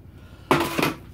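A single metallic clank of a frying pan being set down or picked up, a short bright ring that fades quickly in a quiet room.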